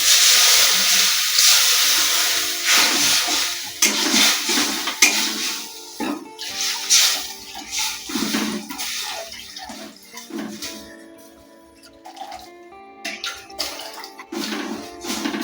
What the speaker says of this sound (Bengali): এবার আমি একটু জল দেবো কড়াই